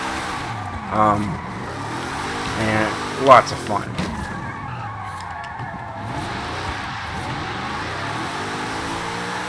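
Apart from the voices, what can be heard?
drift-tuned Zenvo TSR-S car driving, video game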